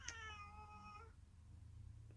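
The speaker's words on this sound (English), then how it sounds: "sorry, I don't know if you hear my cat." A pet cat meows once in a drawn-out, wavering call lasting about a second, fairly close and clear over a low steady background hum, then quiet hum alone.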